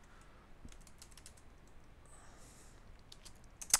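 Someone types on a computer keyboard at a desk, producing sparse, quiet key clicks in short bursts, with a sharper click near the end, close and with no talking.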